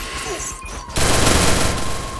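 Gunshots in the battle-royale game Free Fire, a loud, dense burst of rapid automatic fire breaking in after a quieter lead-in and continuing to the end.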